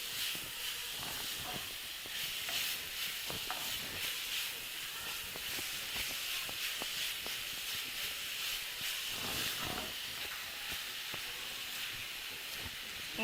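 Grated carrot deep frying in hot oil for carrot halwa, a continuous bright sizzle and hiss with scattered sharp crackles and pops, steady and close, no voices.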